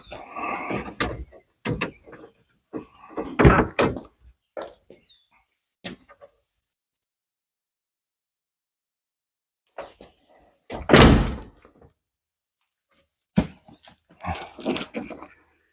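A Jeep TJ door is handled during a side wrap job: scattered clunks, rattles and thuds come in bursts with silent gaps, including a sharper slam-like knock near the middle, all close by.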